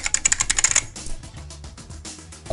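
Rapid keystrokes on a computer keyboard, a quick burst of clicks followed by a few sparser taps, close and clear with no talking.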